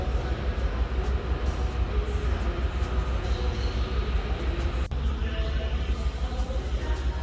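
A train rumbles at a station platform, a loud, steady low roll of railcars close by, with a sharp click midway and faint voices mixed in.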